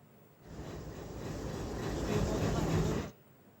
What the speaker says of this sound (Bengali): আজ প্রথমবারের মতো পরীক্ষামূলক ট্রেন চলাচল করল